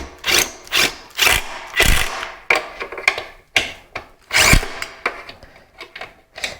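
A power driver tightens screws into ceiling fan blades during an installation, running in a string of short, sharp whirring bursts separated by brief pauses, close and fairly loud.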